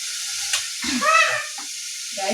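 Onions frying in a pan with green chilli, ginger and garlic, a soft sizzle broken by stirring scrapes and clinks, close and moderately quiet.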